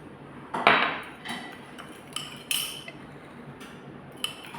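Mango salad being tossed with utensils, a sharp clatter at first, then scattered light clinks and scrapes of metal against a dish, no voices.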